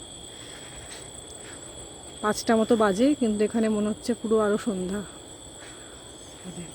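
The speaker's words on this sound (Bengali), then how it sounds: "এখনই ঝিঝি পোকার ডাক শোনা যাচ্ছে।" Crickets chirp at dusk in a casuarina grove near a seabeach, a thin, steady high-pitched trill running throughout under a person talking in the middle.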